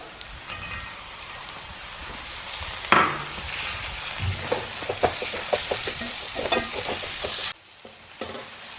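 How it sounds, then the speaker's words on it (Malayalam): Cashew nut curry with tomatoes being stirred in a pan, giving a steady sizzle with scraping spoon strokes and a few louder clinks near the pan, no talking. "നന്നായിട്ട് ഇളക്കി യോജിപ്പിക്കാം."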